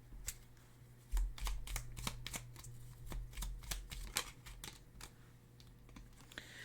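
Playing cards are shuffled and drawn: a rapid run of crisp riffling flicks, close and fairly quiet, with a few firmer snaps partway through and no speech.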